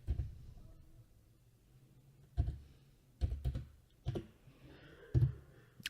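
Computer keys tapped out to type a style name in CAD software, a sparse run of separate soft clicks and small bursts spread over several seconds, close up with no voice.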